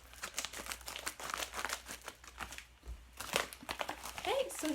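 Crinkly plastic packaging of a January Ipsy beauty bag crackles and rustles as it is cut open, with close crunchy bursts throughout and a voice talking over much of it.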